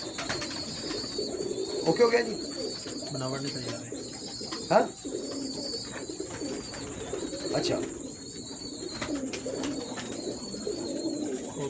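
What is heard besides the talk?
pigeons cooing during breeder's showing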